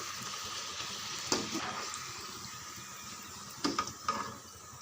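Poori puffing and frying in hot oil gives a steady low sizzle, with a few louder crackling bursts near the end as the bread is turned over.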